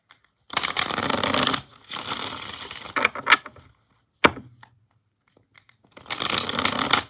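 Tarot cards being shuffled in three bursts of rapid riffling, with a few soft taps and clicks between them, close and fairly loud.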